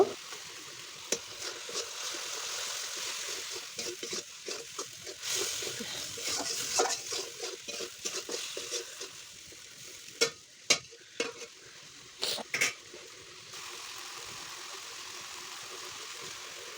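Cumin and ground spices sizzling in hot oil in a pan while being stirred and scraped with a spatula, a continuous frying hiss broken by sharp scraping clatters, close up and without talk.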